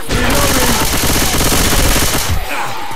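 Rapid automatic gunfire from Left 4 Dead 2 rattles loudly and continuously for over two seconds, then cuts off abruptly, leaving quieter game ambience.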